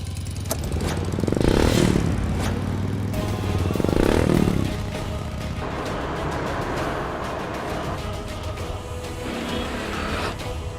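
A motorbike engine runs close by and swells twice as the bike rides past, then settles into a steadier, rattly hum.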